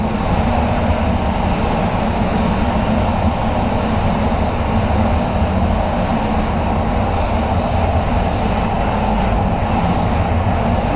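A paint spray gun with a 1.4 fluid tip hisses continuously at 20 psi with full fluid while coating a Ford Kuga, a loud, steady broadband air rush with no breaks.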